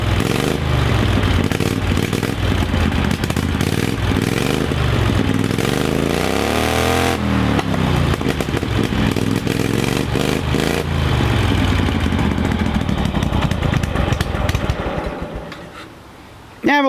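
A Ford Wheeler tractor engine runs loud and rough with a steady chugging beat, then sputters and falls away as it stalls out, leaving a brief lull before a final clunk.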